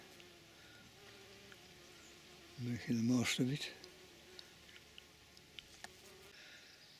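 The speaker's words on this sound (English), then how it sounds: "A little bee there." A bee buzzes briefly among the flowers of a sunny midsummer garden, rising for about a second over faint outdoor ambience, and a voice speaks softly nearby.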